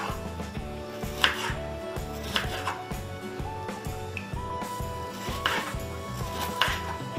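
Bitter gourd is chopped into large pieces for a South Indian kuzhambu, giving a steady run of sharp knife strikes on a board over a constant tonal background.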